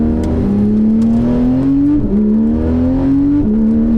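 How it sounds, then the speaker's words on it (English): A Porsche 991 GT3 RS engine drones loudly as it accelerates, its pitch climbing through quick PDK gear shifts, with a rasping exhaust note throughout. "the sound that this car makes with the exhaust that it has"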